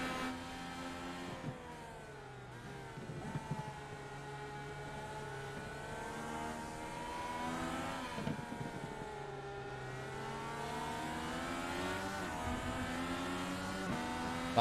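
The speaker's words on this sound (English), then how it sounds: "this is what close racing looks like from the inside of an Indy car" Onboard an Indy car in close racing, the engine screams loud and steady, its pitch climbing and dropping repeatedly through throttle lifts and gear changes, with no voices.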